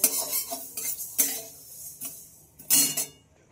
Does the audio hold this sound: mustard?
yes